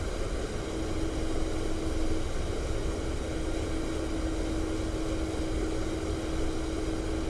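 A helicopter in the DCS flight simulator game drones steadily in the cockpit, a constant engine and rotor hum with a whining tone throughout, even and unbroken, no voices.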